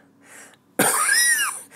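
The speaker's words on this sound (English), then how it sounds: "sorry about the coughing" A single harsh cough bursts out after a brief soft breath, loud and close.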